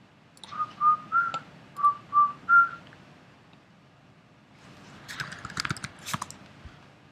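Computer keyboard typing while entering a password on a Mac, as a burst of quick, light clicks near the end, preceded by a run of short whistled notes.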